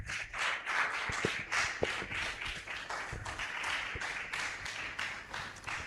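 Audience applause at a scientific conference, a steady wash of many hands clapping at moderate distance, with a few sharper individual claps standing out.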